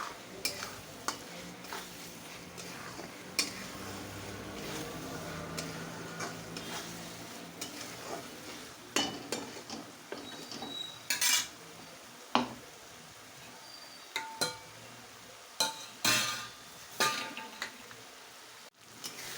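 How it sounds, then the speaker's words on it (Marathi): Masala with coriander is stirred and fried in a pan for brinjal curry. A low sizzle runs throughout, and sharp spatula scrapes and clanks come in irregular bursts, growing more frequent toward the end. No one speaks. "हे बघा, आपला मसाला असा मस्त परतवून झालेला आहे आणि खूप छान असं त्याला तेल सुटलेलं आहे."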